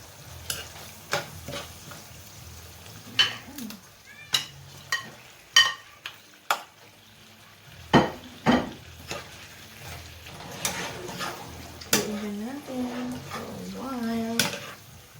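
Pork for binagoongan baboy frying in a pan and being stirred, with repeated sharp scrapes and clanks of the utensil over a steady sizzle, plus some faint voice-like sounds.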